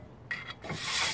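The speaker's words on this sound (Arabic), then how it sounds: "نحك اطرافها شيء بسيط بورق صنفرة 120." Sandpaper of 120 grit rubs the edges of new front brake pads for a 2014 Toyota Fortuner, giving a short, close scraping rasp in two quick strokes.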